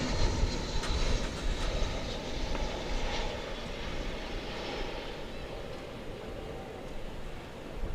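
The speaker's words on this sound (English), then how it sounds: "we've got an American Airlines flight coming in from Calgary in Canada" An American Airlines Airbus A321 arriving at DFW Airport from Calgary gives a sustained broadband engine roar, fairly loud and steady, slowly easing off, with no talk.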